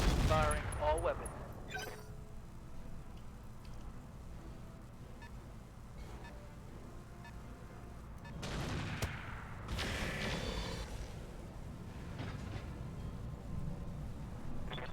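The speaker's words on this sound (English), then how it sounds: "Firing all weapons." Mech weapons volleying in the BattleTech Roguetech video game: dense overlapping gunfire and explosive bursts, with loud salvos near the start and again around the middle, over a steady rumbling battle bed.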